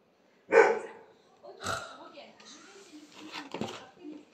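A pet dog barks in a home: one loud sharp bark, then several softer barks and yips spread over a few seconds, close by in a quiet room.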